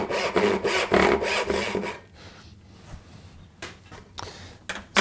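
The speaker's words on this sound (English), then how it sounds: "Saw makes quite a bit of vibration on the backstroke." Hand saw cutting a dovetail joint in wood, steady rhythmic back-and-forth strokes up close for about two seconds, then quieter scattered scraping and a few sharp taps.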